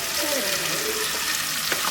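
Ground onion and tomato paste hitting hot oil in a village kitchen pan, giving a loud, steady, close sizzle and crackle that runs without a break.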